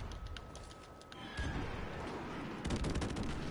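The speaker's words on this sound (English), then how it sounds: "Enemy airstrike." Enemy airstrike in a video game, a burst of rapid gunfire-like blasts and rumbling impacts that grows louder partway through and swells again near the end, dense and continuous with no talk.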